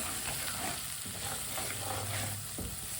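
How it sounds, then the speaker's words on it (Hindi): Crushed red chili, turmeric powder and long-cut green chilies sizzle and fry in oil in a pan over low heat, a dense continuous hiss with a few stirring scrapes, close up and without speech. "1 मिनट के लिए मसालों को पका लेंगे।"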